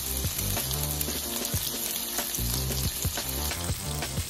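Steak searing in olive oil in a hot pan, a steady loud sizzle and crackle of frying filling the whole clip, with some low clattering pulses of the pan and meat being moved.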